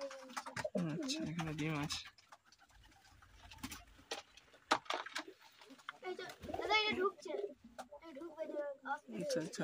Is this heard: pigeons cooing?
yes